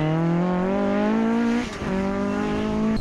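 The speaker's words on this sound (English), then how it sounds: "Awesome spin from the Escort, but an even more showmanship style recovery." An Escort rally car on a stage spins out and recovers. Its engine drones steadily and loud, a brief scrabbling dip cuts in partway through, and then the engine picks back up.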